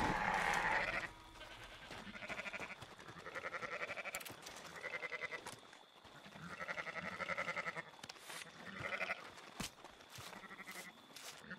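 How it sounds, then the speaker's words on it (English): Sheep bleating in the Red Dead Redemption 2 video game, several wavering bleats repeating at moderate distance over steady outdoor game ambience, fairly quiet overall. "I'm going to get a couple more sheep."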